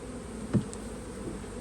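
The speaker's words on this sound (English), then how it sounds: "gently knock the bees right there onto the frame, out of the frame feeder" Honeybees in a package hive give off a steady close buzz with a soft knock partway through, no voices over the hum.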